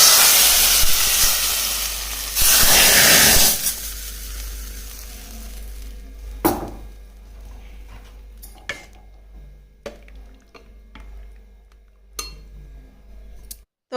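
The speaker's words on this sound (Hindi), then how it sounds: "आज ना मैं एक बार और कढ़ी में तड़का लगा दी थी, कड़ी पत्ता और पंचफोरन और थोड़ी सी मिर्ची बुक्की का लगा दी थी" A tadka of curry leaves, panch phoron and chilli hisses and sizzles loudly for a couple of seconds as it hits kadhi, then fades to quiet clinks of utensils and pots.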